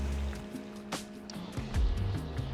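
Water splashing and trickling from an old carved stone fountain in a French Riviera village, a soft continuous gurgle with a few brighter splashes, close and fairly quiet, with no talking.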